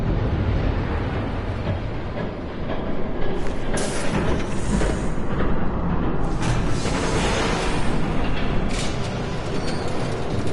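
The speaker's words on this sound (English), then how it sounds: "There's a train coming." Approaching train in Telltale's Batman, a loud, steady rumbling roar of rolling rail noise with bursts of brighter clatter and hiss building over the clip.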